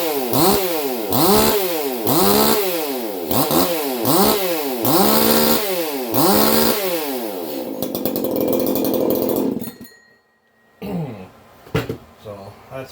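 A Husqvarna 4310sx chainsaw engine with its carburetor tuned rich runs loud and close, revving in a repeated rise-and-fall rhythm of about seven bursts, then idling roughly before cutting out, with brief talk and handling noise after.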